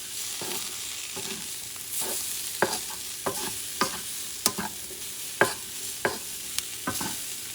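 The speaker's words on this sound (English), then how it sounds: "You don't want the garlic to burn, so you just mix things around a little bit" Crushed garlic stirred and frying in a pan for paella, with a soft steady sizzle and repeated scraping clicks of the spoon at an irregular rhythm, close and moderately loud.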